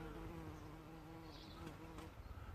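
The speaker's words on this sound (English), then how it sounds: "The bees absolutely love this stuff." Bees buzzing steadily around borage flowers in a garden, a close, continuous insect drone with faint fluctuations and no talking.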